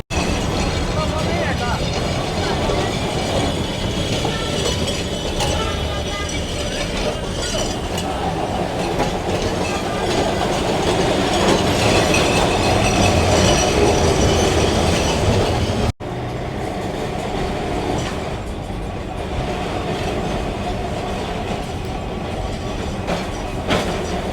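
A Kolkata tram rolls into the Dharmatala tram depot with steady rumbling and wheel clatter on the rails. The noise is loud and continuous, and people talk over it.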